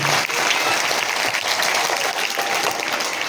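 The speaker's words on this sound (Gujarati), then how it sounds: "જોરદાર તાળીઓથી વધાવો જોરદાર તાળીઓ" Dense, loud audience applause at a Gujarati drama performance, continuous crowd clapping filling the whole stretch without pause.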